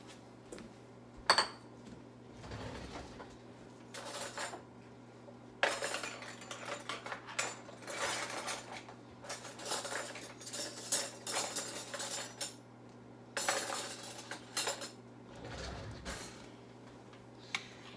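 A utensil stirs and scrapes three tablespoons of flour around a pot while making macaroni and cheese. Soft, irregular metallic clinks and scrapes come in clusters, close but quiet.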